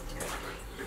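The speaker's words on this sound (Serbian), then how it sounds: "Dobro odlazi voda izgleda" Water drains away across a flooded floor during a studio build, a brief, steady rushing wash heard close and fairly quietly.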